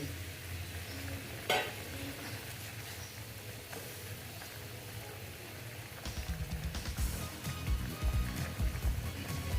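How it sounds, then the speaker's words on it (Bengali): Koi fish slid into a bubbling mustard and poppy-seed gravy, a soft sizzle and steady simmering noise with a sharp clink near the start and louder bubbling and stirring toward the end. "দেখো বন্ধুরা আমার ঝোলটা ফুটে উঠেছে এবার আমি মাছগুলো দিয়ে দিচ্ছি"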